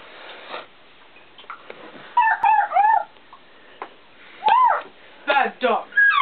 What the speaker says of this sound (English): Bad dog.